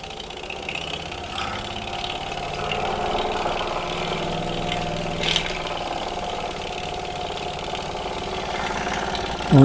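A vintage toy steam engine chugs steadily at close range, a continuous mechanical running sound with a brief sharp hiss midway and a louder burst right at the end.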